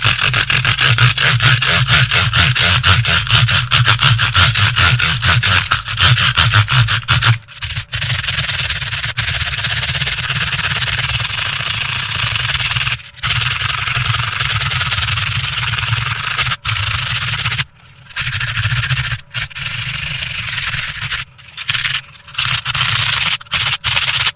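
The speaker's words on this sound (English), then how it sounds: "it'll kind of sand the fretboard a little bit and smooth it up" Steady abrasive rubbing from sanding the frets and fretboard of a guitar neck, loud and continuous, with a few brief pauses toward the end and no talking.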